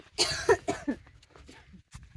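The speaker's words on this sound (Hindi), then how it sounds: "ओह हमें खांसी आ रही है" A short burst of several harsh coughs in quick succession, close to the listener, then quieter breathy throat noises.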